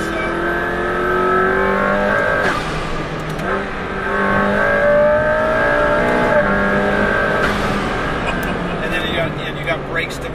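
A McLaren P1 engine revs and accelerates loudly and close, rising through gears with brief shifts between pulls, while someone talks over the roar.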